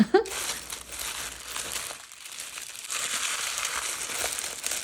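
Craft foil being handled and sorted, with continuous close crinkling and crumpling rustles throughout and a voice briefly speaking at the start.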